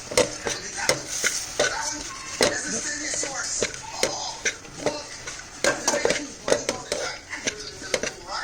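Puffed rice gets stirred into hot sugar syrup in a pan: irregular scraping and clinking of a spoon against the metal, with rustling crunches, under occasional speech.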